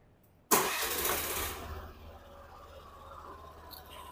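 A Suzuki Avenis 125 scooter engine, a 2023 125cc model, cranks and fires abruptly, then settles into a steady, slightly heavy idle, close and alone.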